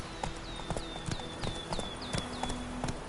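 Roach, Geralt's horse in The Witcher 3, gallops in a steady, rhythmic clip-clop of hooves, close and clear, with a light whistling tone riding over each stride.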